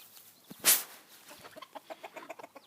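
A crossbred mother hen clucks softly in a quick, even series of short notes after one sharper call, heard faint and near in a quiet yard with no talk.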